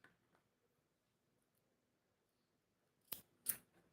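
Scissors snipping a yarn tail during crochet of a puff stitch earring: two quick, crisp snips close by near the end, after a quiet stretch.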